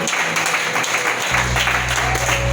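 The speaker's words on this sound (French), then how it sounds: "Si tu veux acclamer, tu acclames bien." Congregation applause at a French-language church sermon, a steady dense wash of clapping filling the space throughout, with a low hum underneath.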